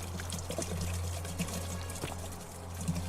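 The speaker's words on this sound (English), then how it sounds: "The flowing water is cool." Water flowing steadily through Roman communal public toilets in the video game The Forgotten City, a continuous soft trickle with faint scattered clicks.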